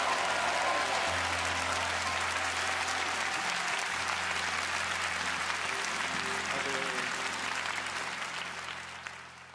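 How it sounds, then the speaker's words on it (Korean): A church congregation claps loudly and steadily in sustained applause at the close of a worship service, the dense clapping filling the space from start to finish before fading slightly at the end. "우리 마지막으로 가장 큰 박수로 하나님께 올려드립시다."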